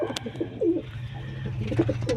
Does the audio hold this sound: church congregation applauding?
no